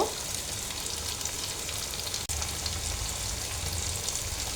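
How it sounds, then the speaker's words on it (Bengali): Potatoes fry in a pan with turmeric, cumin powder and salt, giving a steady, close sizzle that briefly drops out midway and then resumes. "আমি এখন এখানে হলুদ একটু জিরার গুঁড়া দেব আর লবণ দেব দিয়ে আলুটা কষাই নেব"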